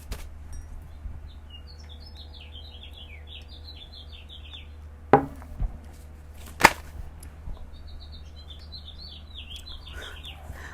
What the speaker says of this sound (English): I was just going to complain about these loud birds, the crow.